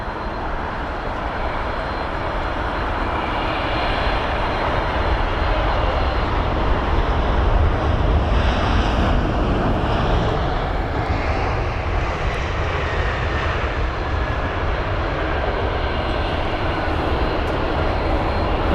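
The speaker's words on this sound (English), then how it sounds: "the engine start for the 777-300ER" A Boeing 777-300ER jet engine spools up during start at Heathrow, a continuous broad roar holding at a steady level throughout, with no one speaking.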